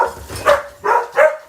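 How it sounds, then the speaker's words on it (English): Dog barking nearby, three short loud barks in quick succession with no other sound around them. "We got a doggy here."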